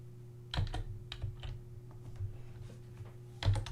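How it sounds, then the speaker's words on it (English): Keys tapped on a computer keyboard while coding, a short burst of clicks, a few scattered taps, then another quick cluster, close and fairly quiet. "So press this key that says F2 up there. And now type box here."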